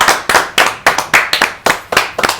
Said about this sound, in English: Please welcome with a round of applause, Debarl Inea.